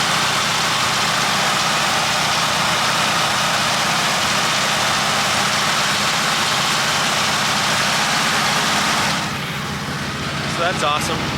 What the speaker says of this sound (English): when this thing fires up, it sits at a high idle